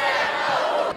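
A high school student section of fans at a Saginaw Heritage game roars out a loud chant, a brief burst of massed voices.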